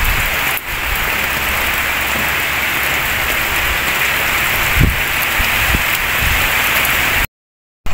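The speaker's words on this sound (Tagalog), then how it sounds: "sobrang lakas ng ulan" Heavy rain pours down steadily outside a warehouse, a dense, loud, continuous hiss with a few brief low thumps, then cuts to silence near the end.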